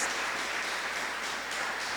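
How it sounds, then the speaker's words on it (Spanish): An audience at a church service breaks into sustained applause, a steady wash of many hands clapping without pause and no voices standing out. "Dele un aplauso al Señor."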